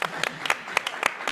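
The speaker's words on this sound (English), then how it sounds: "I think that deserves an applause." Short burst of applause at a panel event on fighting money laundering and corruption in South Africa: a few hands clap in an even rhythm at close range for just over a second.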